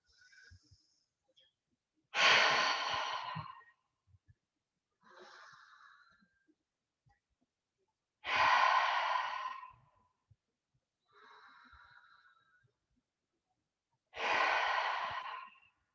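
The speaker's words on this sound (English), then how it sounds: "We're going to take 3 cleansing breaths. In through the nose and let it all out." Three slow cleansing breaths at the close of a yoga class, each a soft nasal inhale followed by a long, loud sighing exhale through the mouth, evenly spaced with quiet pauses between.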